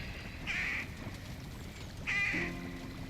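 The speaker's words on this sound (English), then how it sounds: "That bird sound only comes out when you pause." A bird call that plays on a video game's pause menu: two short, bright squawking cries about a second and a half apart, the second followed by a low hum, over a steady background of game noise.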